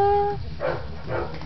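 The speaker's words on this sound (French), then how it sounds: "il aboie" A dog gives two short, close barks about half a second apart, following a brief high whistling tone at the start.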